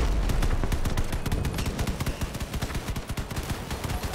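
Trombone weapon in the vehicle combat game Crossout fires a loud, rapid string of heavy shots in a steady pounding rhythm, close up with no talk over it.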